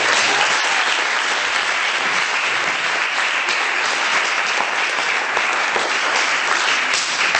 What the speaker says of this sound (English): Guys, please give them a round of applause.